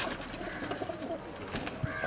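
Pigeons cooing in a domestic loft in Mirpur, Azad Kashmir, soft low coos amid general ambient noise, fairly faint and close-to-mid distance, with no clear talk.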